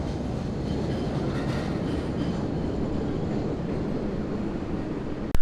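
A train rumbles steadily along the rails, a dense continuous roar with faint clatter, ending in a brief sharp knock.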